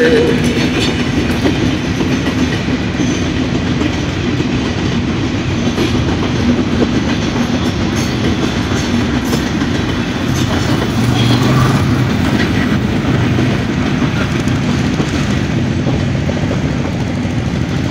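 Chitra Express, a Khulna to Dhaka passenger train, rolling through Darshana railway junction, a loud continuous rumble with rhythmic clickety-clack of wheels over rail joints, close and sustained throughout.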